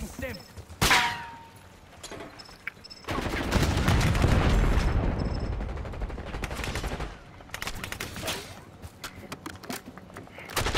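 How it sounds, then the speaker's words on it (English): Several players fire at once in the video game Call of Duty Black Ops 6: a sharp early shot, then a long dense barrage of overlapping gunfire that gradually fades into scattered shots and clicks, with a voice talking faintly. "Now they all shot me at the same time."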